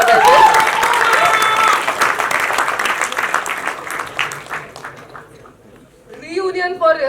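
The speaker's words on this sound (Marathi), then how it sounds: "खूप जोरदार टाळ्या अशोक सराफ यांच्यासाठी सुद्धा झाल्या पाहिजे" Applause from an audience at a film cast reunion party for Ashok Saraf rises loudly at first, then thins and fades, before voices return at the end.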